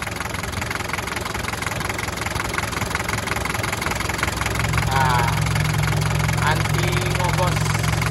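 A 1990 Daihatsu Taft engine idling with the hood open, a steady loud close mechanical rumble that grows fuller partway through, with someone talking over it.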